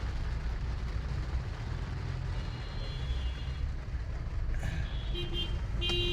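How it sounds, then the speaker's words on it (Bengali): Heavy rain drums steadily on a car roof under an overcast sky, a dense, unbroken roar that stays loud and close for the whole stretch, with a few faint tonal sounds near the end. "অনেক জোরে বৃষ্টি পড়তেছে"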